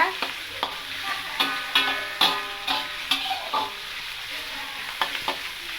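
Ginger garlic paste fries in hot oil with a soft, continuous sizzle, broken by regular scraping and tapping strokes as a spoon stirs it in the pan, with no talking.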